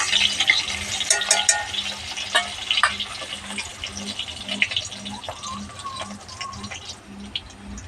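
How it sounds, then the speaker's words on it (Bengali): Potatoes frying in oil in a home kitchen pan, a steady bright sizzle with scraping stirs and occasional clinks of a utensil, fairly close and moderately loud throughout. "আলুটাকে আমি ভালো করে ভেজে নিচ্ছি"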